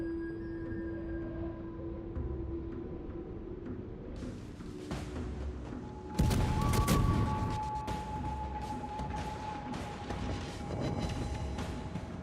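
Naval guns firing in a warship battle game replay: repeated booming salvos and crashing impacts over a constant engine rumble, with a loud, dense burst of firing around the middle that then continues more sparsely.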